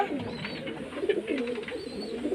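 Madras pigeons cooing close by, a pair of birds giving soft, repeated throaty coos with a gentle rolling rhythm over a low background hum.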